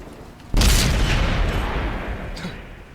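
A tank cannon fires a HEAT shell in World of Tanks on Xbox One: one sudden, loud, close blast that rings out and fades slowly over the following seconds, with a faint second report near the end.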